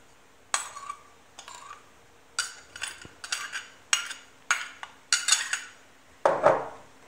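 Diced chicken filling with spices, salt, pepper and onions being mixed in a bowl for stuffed batbout, heard as close, intermittent clinks and scrapes of a utensil against the dish in separate bursts.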